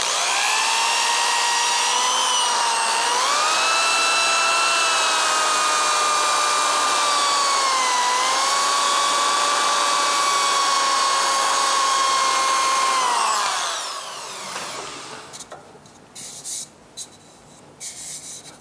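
Drill-driven sander grinding against a hollow wooden sphere, a loud continuous whine whose pitch dips and shifts, then cutting off at about thirteen seconds into quiet handling clicks.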